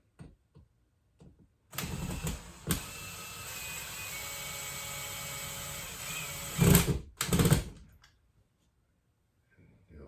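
A power driver sinks a screw with a steady motor whir lasting several seconds, then two short follow-up bursts of tightening, close by with quiet gaps before and after.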